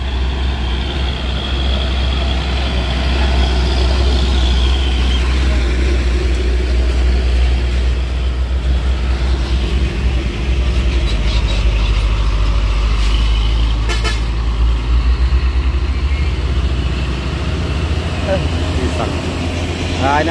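A tanker trailer truck climbs a busy road in the late afternoon, a loud steady low engine drone with a horn toot partway through, while someone talks over the traffic.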